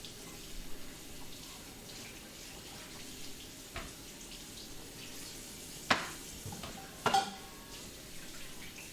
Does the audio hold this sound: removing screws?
no